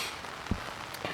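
Rain pours down at a riverside regatta camp on the Drina, a continuous broadband patter with a couple of sharper drops, close and fairly loud, with no voices.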